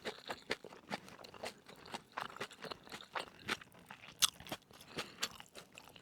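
Close, crisp chewing and biting of gwamegi, the dried Pacific saury, repeated in an irregular rhythm of crunchy bites and wet mastication with no talk.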